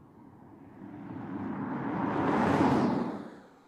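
A KLM Boeing 787 Dreamliner, six years old, takes off from Amsterdam Schiphol bound for Toronto; a broad jet roar swells steadily, peaks near the end, then begins to fade, heard from a distance with no talk.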